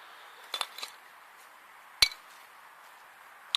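Old glass and crockery pieces from a likely World War II dump clink sharply as they are dug out, a few quick taps near the start and a single louder clink midway, with quiet outdoor ambience between.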